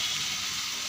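Water poured into a hot pan of cooked curry gives a steady, loud hiss of sizzling steam, close and continuous for a brief moment.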